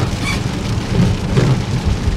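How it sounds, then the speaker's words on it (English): Steady, dense rain pours down outdoors in a continuous even hiss with a low rumbling undertone, and no voices are present. "I don't know if y'all can see it, but it's raining."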